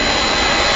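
An LC3000A hot air welding machine's heat gun blows a loud, steady rushing stream of air in one brief, uninterrupted burst.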